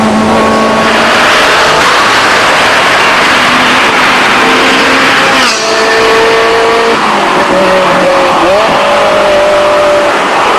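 A Ferrari Modena sports car engine revs hard and climbs in pitch, with quick paddle gear shifts breaking the rising whine, loud and close throughout.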